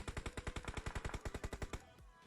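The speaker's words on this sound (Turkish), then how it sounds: "Bombalar patlamaya devam ediyor bir yandan." A rapid burst of about twenty evenly spaced blasts, like rapid-fire explosions in a video game, stopping abruptly before a quieter tail.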